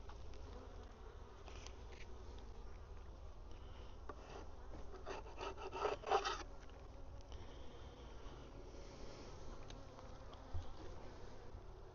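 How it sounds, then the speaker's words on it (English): A steady, dense hum of many honeybees buzzing continuously inside an open hive, close by, with occasional brief scrapes or knocks rising above the drone. "There's a ton of bees in here though."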